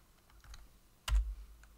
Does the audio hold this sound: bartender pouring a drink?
no